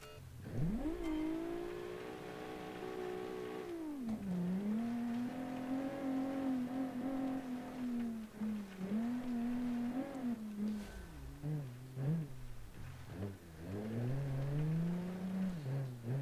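A V6 rally car engine in a 1972-season classic rally racing game, revving up and down continuously through gear changes and braking, loud and close, with rising and falling pitch sweeps and short throttle lifts.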